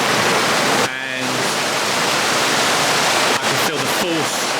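Water rushes loudly in through an opened paddle, a steady broadband roar with brief voices breaking over it.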